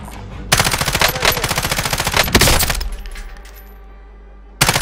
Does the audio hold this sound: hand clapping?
no